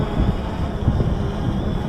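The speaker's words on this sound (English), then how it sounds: "the wind is pretty significant" Strong wind buffets the microphone while a 3DR Solo drone flies outdoors, a loud, steady low roar with gusty swells over the short stretch.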